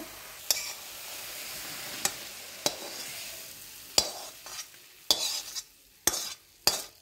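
A spoon or spatula stirs cooked papaya tutti frutti in a pan after the syrup has dried, giving sharp scraping clacks at irregular intervals with soft sticky shuffling between them, close and fairly quiet, with no talking.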